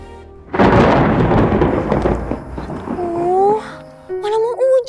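A loud, close rumble of thunder before rain breaks in and rolls on for a few seconds, fading as voices talk over its tail.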